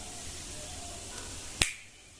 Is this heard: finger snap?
yes